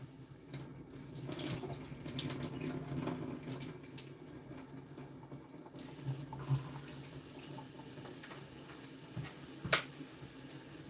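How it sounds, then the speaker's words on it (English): Hot water runs and splashes as ackee is rinsed in a tin, a steady faint trickle with a few sharp knocks and clinks, and no talking. "I like to rinse it off with some hot water."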